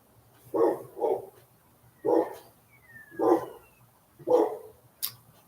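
Dogs bark in short, sharp bursts, about six barks in uneven pairs and singles at moderate distance, with quiet gaps between and no talking.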